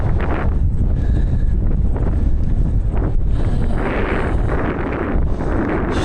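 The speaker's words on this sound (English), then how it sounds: "The wind is picking up." Strong desert headwind buffets the microphone in a steady, loud roar with gusty swells, blowing continuously across an open road with no voices.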